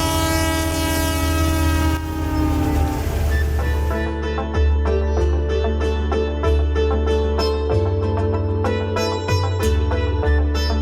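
A train passes loudly and close, its horn sounding in long sustained tones while the rolling wheels keep up a steady rhythmic clatter throughout.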